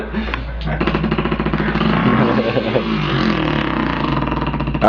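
A man mimics a dirt bike engine with his voice, a loud close buzzing rev that rises and wavers in pulses, with a brief sputter near the start.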